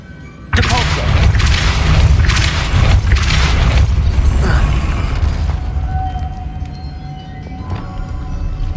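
A Depulso spell blast in Hogwarts Legacy bursts suddenly with a heavy, booming whoosh and rumbling, creaking debris that fades over several seconds, followed by quieter ambience and a faint voice.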